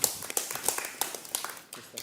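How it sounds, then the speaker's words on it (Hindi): A small group of people clapping with quick, uneven claps, fairly faint and fading out after about two seconds. "Clap for Zad and Bebika."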